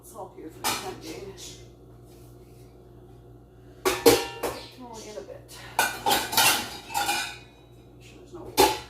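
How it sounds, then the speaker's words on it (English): Metal kitchen pots and lids clank and clatter in sharp bursts as they are handled and set down, close and loud, with a person speaking briefly between the clatters. "Put these pots all here for the time being."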